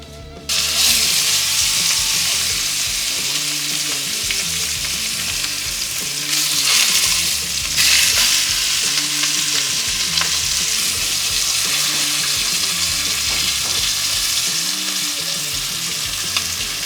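Lamb shanks searing in a seasoned cast iron pot set over hot coals, a loud, close, continuous sizzle and crackle that holds steady throughout, with no voices.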